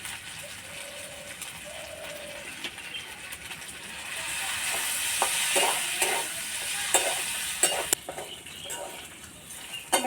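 Chicken frying in a pan with tomato sauce and a little soy sauce gives a steady, close sizzle, with spoon stirs and scrapes clattering through the second half.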